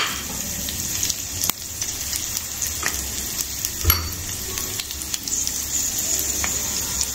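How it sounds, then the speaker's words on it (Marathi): Ginger and green chili sautéing in a home kitchen pan for matar karanji filling, a steady close sizzle with occasional stirring scrapes and clicks, no talking. "हे छान परतून घेणार आपण आलं मिरची"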